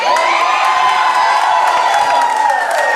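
A crowd at a professional wrestling show cheers and whoops loudly and continuously, with excited shouts rising over a steady roar and scattered clapping.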